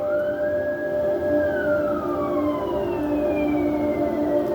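A police siren wails steadily at a distance, its tone rising then sliding down, over a low background rumble of traffic.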